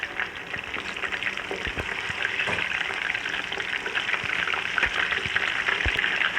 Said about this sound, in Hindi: और तकरीबन 2 से 3 मिनट में इसको कर लूँगी फ्राई